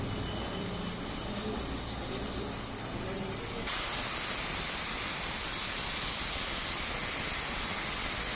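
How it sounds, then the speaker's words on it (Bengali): Steady hiss of steam escaping a pressure cooker whistle while goat fat cooks with bottle gourd, a continuous rushing sound that grows louder and brighter partway through, with no talk. "এবার প্রথম হাই আঁচ করে এক সিটি দিয়ে দেবো"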